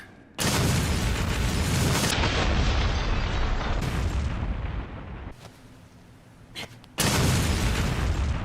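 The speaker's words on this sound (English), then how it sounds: "Alright, massive explosion." An exploding bottle made from an empty bottle and gunpowder detonates in Resident Evil Revelations 2, giving a loud, sustained booming blast. A second powerful burst follows after a quieter stretch.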